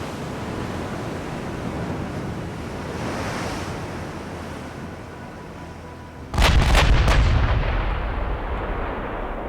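Naval guns, including 18-inch guns, fire in the naval battle game Ultimate Admiral: Dreadnoughts, a sudden deep booming salvo of a few rapid blasts over a constant roar of wind and sea, loud and close.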